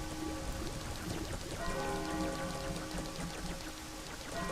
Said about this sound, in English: Oh, it stopped raining.